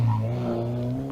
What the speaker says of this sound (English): Across the parkland goes Alex Ward with his 2-litre Subaru Impreza